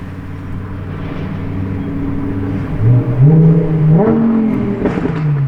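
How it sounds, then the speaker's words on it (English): A Lamborghini Urus drives past with a close, loud engine drone that rises in pitch as it revs. The revs climb and waver for a few seconds, then settle, with no voices. "Another Urus coming back."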